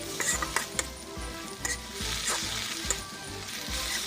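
Chicken liver stir-fried with sauce in a hot pan, a loud steady sizzle with repeated spatula scrapes and a few metallic clinks, no one speaking.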